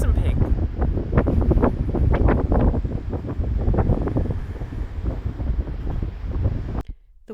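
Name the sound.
strong wind blowing outdoors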